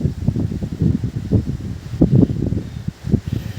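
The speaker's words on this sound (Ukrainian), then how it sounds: "А в нас такий вітер почався." Strong gusting wind roars and rustles through foliage in uneven surges, loud and close, with no one speaking.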